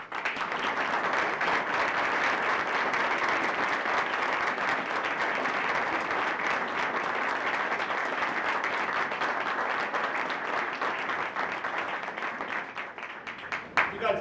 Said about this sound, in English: You guys applaud at just the right time